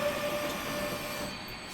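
A train runs steadily in the railway management game Transport Fever 2, a continuous close rolling rumble with a faint high wheel squeal and no talk.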